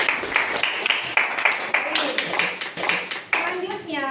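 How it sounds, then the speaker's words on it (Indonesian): A classroom breaks into rhythmic, patterned clapping, sharp claps spaced in a steady beat, with voices chanting or calling along over them. "Kasih tepuk tangan buat"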